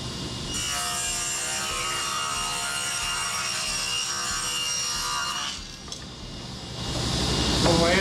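Table saw cutting a rabbet in a wood board, a steady high whine for about five seconds before it drops off and the blade winds down, close and loud.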